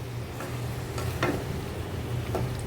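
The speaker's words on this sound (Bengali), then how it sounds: "এখন এই মাংসটাকে আমি একদম মিডিয়াম আছে অনেকক্ষণ ধরে মাংসটাকে তেলে কষাবো" Meat with plenty of green chillies cooking in oil in a pan, with a steady low sizzle and a few soft stirring scrapes, close and fairly quiet.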